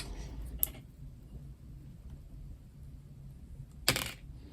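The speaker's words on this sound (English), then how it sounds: "We're rolling the 4th set of dice for you, the Looney Tunes dice." Looney Tunes dice are rolled, giving two short bright rattling clacks, one early and a louder one near the end, separated by quiet room tone.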